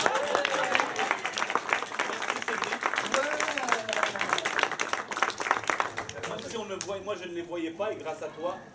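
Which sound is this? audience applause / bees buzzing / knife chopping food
audience applause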